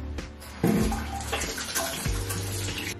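Running water splashes steadily as foam cleanser is rinsed out of hair, a close, continuous wash with shifting gurgles and no speech.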